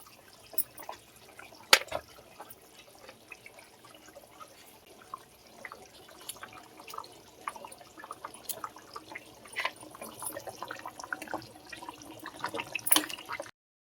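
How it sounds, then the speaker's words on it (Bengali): Fish pieces go into a boiling papaya and potato fish curry, followed by faint, steady simmering with scattered small bubbling pops and drips, heard alone without talk. "দিয়েছি ঝোলের মধ্যে, ঝোলটা আমার ফুটে গেছে"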